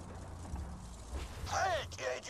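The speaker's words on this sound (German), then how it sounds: "Ja, ich öffne das Tor." A gate-opening mechanism in the video game Borderlands 2 gives off creaking, ratcheting mechanical noises that build toward the end, mixed with other game sounds and a voice partway through.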